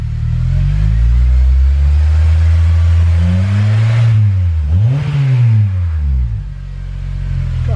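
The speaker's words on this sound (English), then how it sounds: "Gotta rev it a little bit." A restored Acura TSX with a six-speed manual revs up hard through its exhaust, the note climbing and falling over a steady idle, loud and close with no talking.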